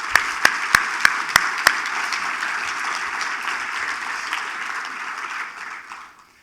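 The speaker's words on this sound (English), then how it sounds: "a big round of applause to you guys" An audience at an advocacy awards event breaks into applause, opening with a few sharp, loud individual claps before settling into a sustained wash of clapping that fades out at the end.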